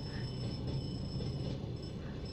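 A train passing steadily with a continuous, fairly faint rumble and rolling rail noise and a faint high whine over the top, heard with no talking.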